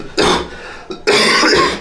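Two harsh, loud coughs close up from a man with tuberculosis, one short burst followed by a longer, rougher cough after a brief pause.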